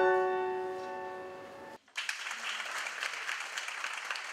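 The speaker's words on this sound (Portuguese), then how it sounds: "um público muito atento aplaudiu os vencedores do concurso de 2014 no concerto final" An audience at a final concert applauds the winners of a 2014 music competition, a sustained wash of clapping from many hands that follows a sustained musical chord cutting off abruptly.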